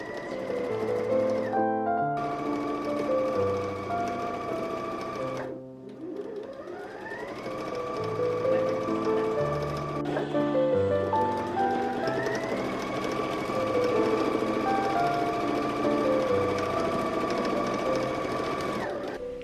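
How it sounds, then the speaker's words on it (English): Sewing machine stitching the side seams of a dress: a steady, fast mechanical whir with shifting tones as it speeds and slows, running almost continuously for the whole stretch, close and clear with no talk. "I'm going to sew them together at the side seams"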